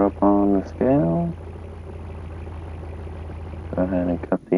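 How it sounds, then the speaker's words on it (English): A truck engine idles on a scale with a steady low hum running throughout, while voices speak briefly over it at the start and again near the end. "Go ahead and cut the engine off."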